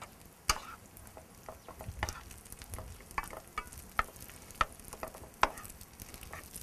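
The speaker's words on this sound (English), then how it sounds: "So you add the rice when the garlic starts to brown." Japanese rice fries in a pan with browning garlic: a quiet bed of sizzling broken by sharp, irregular crackles and pops spread across several seconds.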